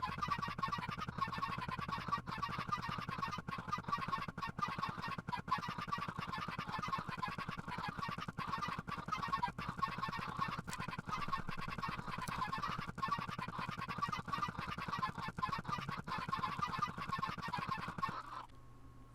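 Chickens crammed into a Minecraft chicken farm in a video game make a dense, continuous din of overlapping clucks and squawks with rapid rhythmic clicking, loud and steady throughout, cutting off abruptly near the end.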